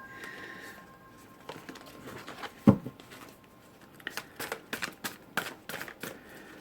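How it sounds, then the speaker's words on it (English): Tarot cards are shuffled quietly, a soft papery rustle followed by a run of crisp, quick riffling flicks. "I'm going to shuffle again."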